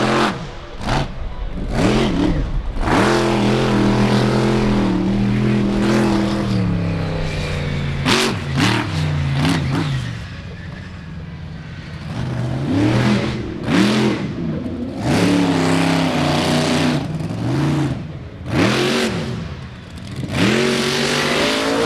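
A monster truck engine revs hard through a freestyle run at the 4-Wheel Jamboree Nationals in Indianapolis, with loud, rising and falling roars and repeated bursts of throttle that continue throughout.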